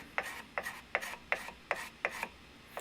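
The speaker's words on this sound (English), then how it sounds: "this is my card scraper that takes the tool marks off from the rasp" A steel card scraper draws across carved wood on a handmade wooden coffee mug, cleaning off rasp marks in about eight even, rhythmic rasping strokes, close and quiet, with no talk.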